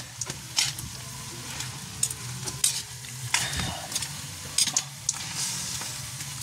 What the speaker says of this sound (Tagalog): Gisa lang natin maigi.